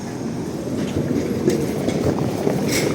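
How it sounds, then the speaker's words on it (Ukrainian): Number nine tram passing along a street in Lviv, a steady rumbling roll with a faint rattle of the car over the rails, sustained and fairly close with no talk. "Трамвай дев'ятка їде, до речі."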